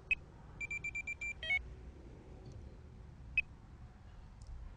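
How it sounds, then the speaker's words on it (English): A Delkim TX-i+ carp fishing bite alarm gives a short run of rapid electronic beeps, then a single isolated beep a few seconds later, quiet and close against a faint background. "so just activate the first buzzer."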